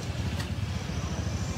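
A Honda Vision scooter engine idles steadily right after starting, a low, even, pulsing putter close by that runs the whole time without any talk over it.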